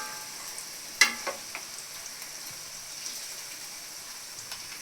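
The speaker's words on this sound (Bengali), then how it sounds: "মাছটা একটু আমি ভালো করে কষিয়ে নেব মশলার সাথে।" Fried fish tossed in a pan with spice paste gives a faint, low sizzle, broken by one sharp metallic clack and a few light scraping stirs.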